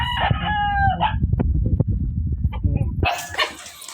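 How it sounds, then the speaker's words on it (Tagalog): A pet dog named Sky barks among backyard roosters, with crowing and clucking fowl mixed in, then a burst of broadband noise toward the end. "Aso ko"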